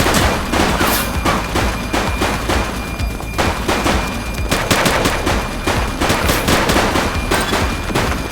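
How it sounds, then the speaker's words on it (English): Rapid gunfire in the police game The Precinct, a dense fusillade of overlapping shots and bursts running loud and continuous throughout, with brief lulls and renewed volleys. "Shots fired!"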